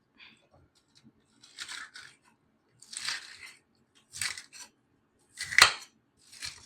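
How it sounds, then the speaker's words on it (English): A knife chopping fresh bok choy on a board: short clusters of crisp, crunchy cuts in separate bursts, close by, with one sharper thud of the blade near the end. "Next, I'll take some of this bok choy and then a chop."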